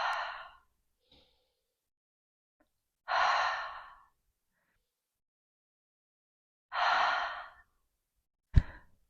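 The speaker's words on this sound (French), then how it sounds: "expire par la bouche" Three slow, breathy exhalations through the mouth during a relaxed breathing exercise, each lasting about a second and spaced several seconds apart, close and clear, followed by a sharp click at the end.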